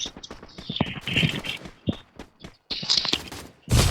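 Rapid gunfire in the mobile battle game Free Fire, sharp shots fired in quick clusters with short gaps between bursts, moderately loud and up close.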